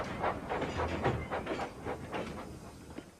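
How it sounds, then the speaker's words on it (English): A steam locomotive picks up speed along the rails, giving a series of rhythmic, breathy puffs with a hissing edge. The chuffs are evenly spaced and moderately loud, and there is no talk. "Edward picked up steam and proudly puffed past Spencer."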